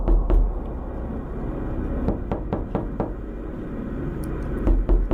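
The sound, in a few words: knocking on a door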